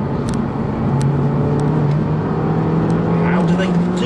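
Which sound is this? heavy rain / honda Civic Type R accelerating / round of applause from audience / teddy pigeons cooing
honda Civic Type R accelerating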